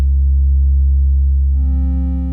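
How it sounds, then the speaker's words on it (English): A steady, pure synthesizer sine tone hums low and loud, holding a deep bass pitch, with a slight brightening and fading toward the end. "Its waveform is a sine wave, useful for deep bass."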